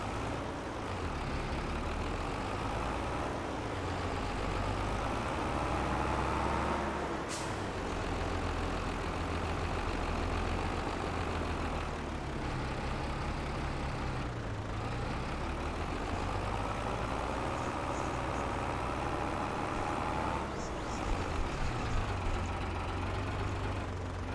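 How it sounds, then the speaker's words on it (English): A tractor engine in the Farming Simulator 22 video game drones steadily as it strains to pull a load uphill through a wooded area, a continuous loud low rumble with slight shifts in pitch and no talk over it. "I knew the tractor was going to have a problem pulling it up this hill."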